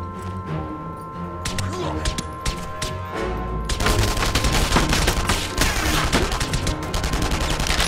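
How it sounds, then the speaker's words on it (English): Heavy gunfire in the World War II shooter game Enemy Front, scattered shots building into dense, loud sustained bursts of automatic fire. "Seriously, what are they shooting at?"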